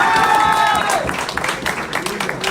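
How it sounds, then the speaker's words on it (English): Audience at a live People Power political rally in America breaking into applause and cheering, a dense patter of clapping rising after a voice trails off and continuing under scattered shouts. "So clap for yourself."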